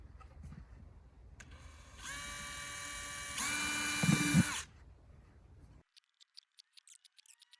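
A small electric drill spins up near the listener, whining at a steady pitch, then rising louder and higher as the bit bores small holes into a computer expansion card, before cutting off into light clicking.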